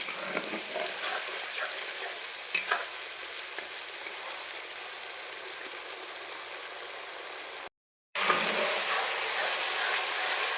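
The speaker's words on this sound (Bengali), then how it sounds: "মশলাটাকে একটু করে কষাতে হবে মশলার কাপড় গন্ধটাও চলে যাবে মশলা থেকে তেলটাও ছেড়ে দেবে" Spice masala for goat curry sizzles steadily in hot oil, a close, continuous hiss with occasional stirring scrapes and a brief cut-out near the end before the frying resumes.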